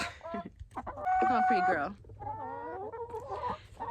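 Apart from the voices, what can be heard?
pet chicken clucking while held in hand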